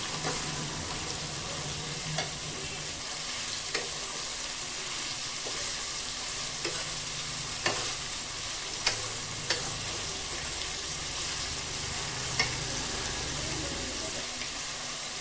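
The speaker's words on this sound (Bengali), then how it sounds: "পেঁয়াজটাকে ভালো করে ভেজে নরম করে নেব।" Four chopped onions fry in a pan for chicken curry, giving off a steady, hissing sizzle with occasional knocks and scrapes of a spatula stirring them, and some quiet background talk at times.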